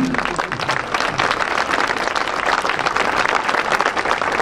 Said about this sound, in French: vous pouvez applaudir notre Sherpa à nous